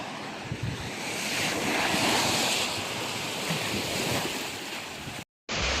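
Sea waves wash steadily against a stone-lined beach at Kalba in the UAE, a continuous broad roar mixed with wind buffeting the microphone, then a brief dropout near the end.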